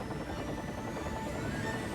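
Continuous dense rumble and whir of a helicopter, steady and fairly loud, with no voices.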